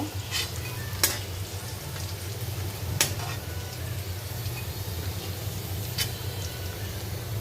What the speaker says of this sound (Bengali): তো ডিমটাও ফ্রাই করে নিয়েছি, চিকেনটাও ফ্রাই করে নিয়েছি